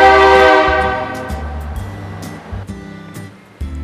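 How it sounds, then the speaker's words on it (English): A train horn blares loudly at first and fades as the train rumbles past close by, with clanking thuds from the cars on the tracks. "when a real train passes on the tracks nearby, the sound, and sometimes the vibrations"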